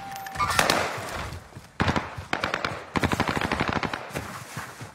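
Rapid automatic gunfire in a video game, loud bursts of repeated shots with short pauses between volleys, continuing steadily throughout.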